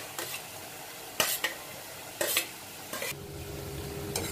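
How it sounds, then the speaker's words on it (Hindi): Onion with grated garlic and ginger frying in a pan after cumin for Punjabi-style dal makhani, a soft steady sizzle broken by a few sharp scrapes of a spoon stirring, close and fairly quiet. "इसको हम गोल्डन ब्राउन कलर होने तक भुनेंगे"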